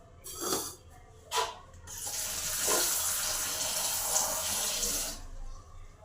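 Brinjals being rinsed under running water in a kitchen, with a few short splashes followed by a steady gushing tap stream for several seconds before it stops, fairly quiet.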